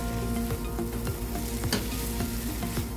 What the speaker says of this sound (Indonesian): aduk hingga semuanya bercampur rata dan tumis wortelnya hingga matang.